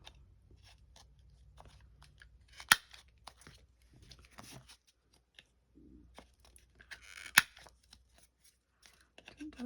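Sharp clicks and crunching snips from a corner-rounding punch cutting the bottom corners of card pages for a journal, a few loud punches among soft rustling and handling noises.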